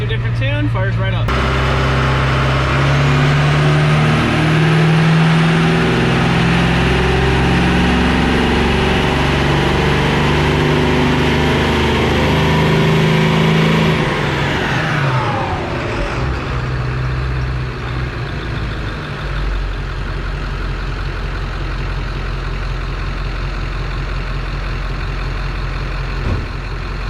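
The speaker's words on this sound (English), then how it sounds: "Put it back to a different tune, fires right up." A Ford 7.3 Powerstroke diesel truck engine, tuned for high horsepower, fires up and settles into a loud, steady low rumbling idle heard close, with a falling whine around the start and talk over it.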